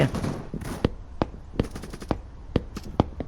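AK rifle fire in a knockoff mobile war game: about eight sharp single shots at uneven intervals over a low background hum, with no talk.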